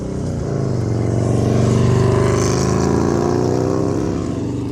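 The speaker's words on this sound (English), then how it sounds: "we got a motorbike." A motorbike engine drones steadily up close, its pitch rising and swelling slightly, with no voices over it.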